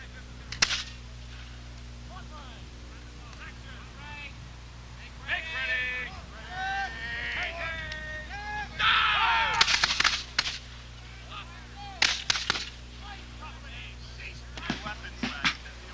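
Musket and cannon fire at a Revolutionary War re-enactment of the Battle of Bennington: scattered sharp reports, some distant and some closer, with clustered volleys late on, while someone talks over it.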